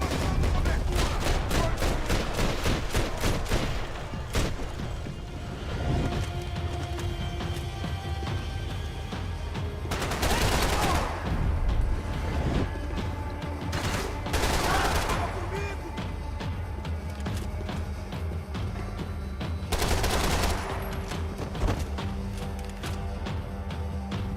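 Gunfire from Max Payne 3 as shots pierce walls: rapid bursts of loud automatic fire, dense at first, then intermittent volleys and single blasts spread across the stretch amid game ambience.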